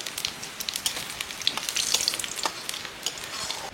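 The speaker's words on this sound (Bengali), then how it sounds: "তেজপাতা দিচ্ছি আর অল্প করে জিরে দিচ্ছি" Bay leaves and cumin seeds dropped into hot oil, a faint crackling sizzle with sharp scattered pops over a soft hiss, close and without voices.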